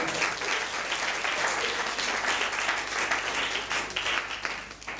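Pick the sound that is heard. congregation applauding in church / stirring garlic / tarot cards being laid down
congregation applauding in church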